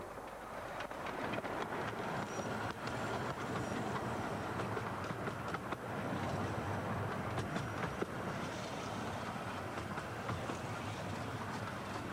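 A train rumbles steadily along the track at a moderate distance, with faint rhythmic clicks of wheels over rail joints.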